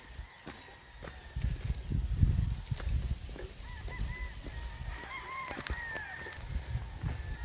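Gamecocks kept as fighting roosters in Murcia, Negros Occidental, crowing and clucking at moderate distance, several calls overlapping above low rustling and handling noise.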